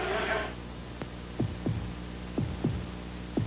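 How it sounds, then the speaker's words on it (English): A thumping heartbeat effect in a Chevy truck commercial, slow paired low thuds repeating about every second, faint over a quiet hum after a brief burst of other sound at the start. "Listen to the heartbeat."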